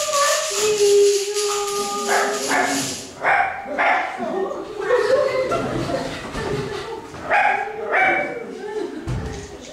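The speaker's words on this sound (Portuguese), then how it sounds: "São as cachorras." Dogs bark and yip repeatedly, with people talking and laughing over the barking.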